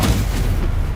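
A Stupefy spell impact in Hogwarts Legacy hits as a loud, close, booming burst with a heavy low-end thump, filling the short moment with a dense blast that tails off slightly.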